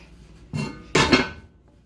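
A heavy lid lifted off a very hot Dutch oven in a 500-degree oven: two close metallic clanks, the second louder with a brief ringing scrape before fading.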